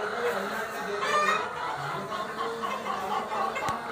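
Black country hens perched on a farm cluck in short, murmuring bursts under a voice.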